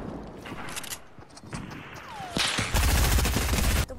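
Assault rifle fire in a video game, a dense burst of rapid shots near the end, following scattered single cracks earlier, with a voice briefly heard over the game sounds.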